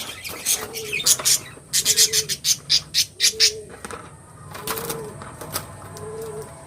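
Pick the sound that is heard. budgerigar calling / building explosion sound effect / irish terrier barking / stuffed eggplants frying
budgerigar calling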